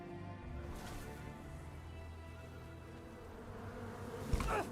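Bees buzz in the fantasy RPG Tainted Grail: Fall of Avalon, a steady droning hum running throughout with no talk, swelling briefly near the end.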